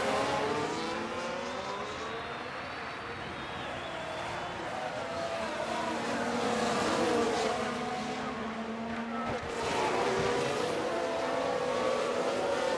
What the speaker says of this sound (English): Looks like we're going to overtake Sargeant